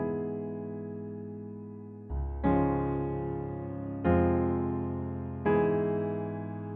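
A piano playing the arpeggio from Clair de Lune as block chords, four struck chords in a slow sequence, each ringing and fading before the next, clear and alone.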